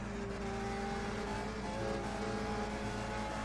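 A race car engine hums at a steady high pitch in a 1965 Milwaukee 100 race in the Indianapolis 500 Evolution video game, held close and even with a faint drone under it.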